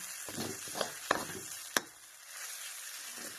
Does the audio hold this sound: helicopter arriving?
no